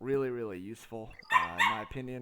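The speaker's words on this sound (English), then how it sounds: "my dog, he's a puppy. He's a Cavapoo." A Cavapoo puppy yips and whimpers in short, high-pitched bursts, close and loud, mixed with a person talking over it.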